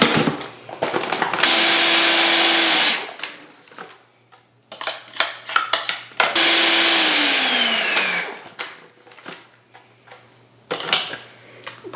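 An electric blender runs in two loud sustained bursts, whirring a burger bowl sauce with paprika, onion powder and garlic, separated and followed by clatter and knocks of kitchen handling.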